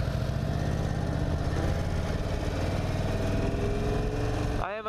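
An Indian Super Chief Limited cruiser motorcycle engine running steadily while ridden, a loud, continuous low rumble with choppy fueling, cutting off at the very end.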